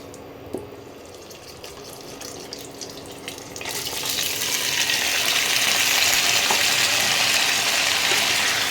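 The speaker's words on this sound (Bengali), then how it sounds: "এবারে আমি তেল গরম হলে ভেজে নেব" Mutton pieces dropped into hot oil for mutton kalia; the sizzle swells into a loud, steady hiss of frying and holds to the end, with no talk over it.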